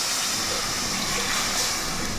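Water pours into rice for a pressure cooker as a steady, even rush of liquid, close and fairly loud, with no talk.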